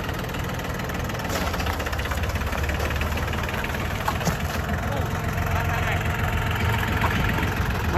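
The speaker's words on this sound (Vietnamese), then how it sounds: "Rồi nổ máy cho người ta xem luôn." A Yanmar YM2002D four-wheel-drive tractor engine idles steadily close by, a continuous low rumble with a faint knocking texture that holds even for the whole stretch.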